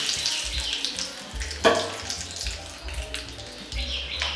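Curry leaves sizzle in hot oil for a chicken pakoda side dish, a steady close frying hiss with one sharp crackling burst partway through and no talking.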